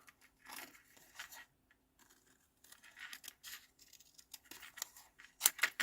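Scissors cutting out stamped paper pieces, a series of close, crisp snipping and rustling strokes in short bursts with gaps between, no talking.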